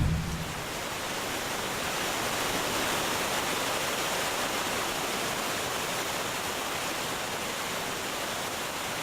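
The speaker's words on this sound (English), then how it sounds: "the water that flows down the sides of these slopes is called runoff" Steady, dense rush of runoff water flowing down the sides of slopes, continuous and fairly loud with no voices.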